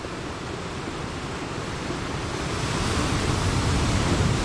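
Sea waves wash onto an island shore at a fishing and camping spot, a steady broadband surf roar that swells slightly louder toward the end, with no voices.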